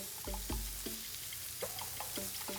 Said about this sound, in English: you can see how the melting fat makes the meat sizzle